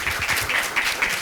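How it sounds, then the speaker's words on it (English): Audience applause for conference panelists at a policy discussion on entrepreneurship, a brief burst of many hands clapping in a room, fairly close and even. "I'd like to give a round of applause with you all to our amazing panelists"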